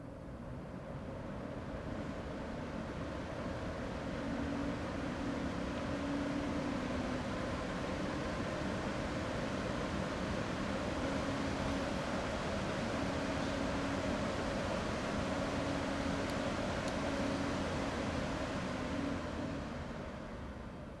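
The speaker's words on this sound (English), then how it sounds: "the fastest fan speed, loudest noise these fans can go" Corsair QX120 RGB 120 mm cooling fans spin at maximum speed, around 2,000 RPM, a steady, unbroken airy whoosh with a low hum that stays constant and moderately loud throughout.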